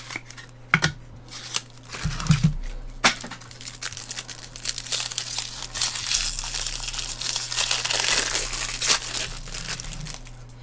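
Plastic wrappers of 1994 Flair USA Basketball trading card packs crinkle and tear open close by, with sharp rustling bursts early on, then steady, dense crinkling through the second half, without speech.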